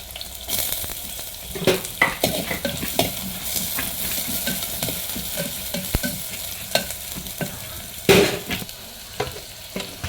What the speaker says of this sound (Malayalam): ഇനി ചെറുതായിട്ട് അരിഞ്ഞിട്ടുള്ള ഒരു ഉള്ളിൻ്റെ പകുതി